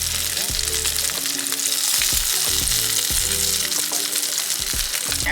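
Chickpea quinoa burger patties frying in a pan, a loud, constant close sizzle with occasional soft clinks and scrapes from cooking utensils.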